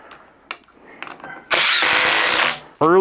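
A Ridgid impact driver on a full 2 amp-hour battery at max output in speed 3 hammers a screw in one loud, sustained rattling burst lasting about a second, after faint earlier sounds, then a voice begins at the end.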